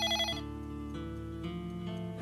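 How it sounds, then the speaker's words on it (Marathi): A telephone rings indoors with a repeating electronic ringtone melody, steady and moderately loud, stepping through tones for a couple of seconds with no voices over it. "कोणाचा फोन आला?"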